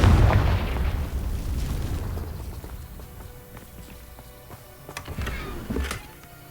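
A Confringo explosive spell blast in Hogwarts Legacy, set among old castle ruins, opens with a heavy boom that tails into rumbling and clattering debris, with further smaller impacts later.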